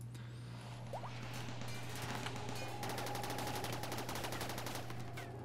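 Turret gunfire in RimWorld Alpha 11, modded, sounding as rapid, evenly spaced automatic shots that keep up a steady rattling stream over a constant low hum, fairly quiet throughout.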